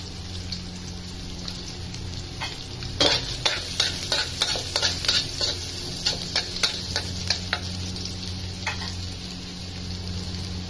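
Garlic fries in a pan for sautéed mung beans with dried fish and prawns, a steady sizzle under a string of sharp, close scrapes and clanks as a utensil stirs, busiest in the middle.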